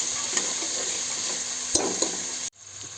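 Soaked green peas and mixed vegetables fry in a pan for white pulao in a village kitchen, giving a steady close sizzle with a few sharp stirring clinks before the sound cuts off abruptly near the end.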